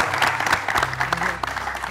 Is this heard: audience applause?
yes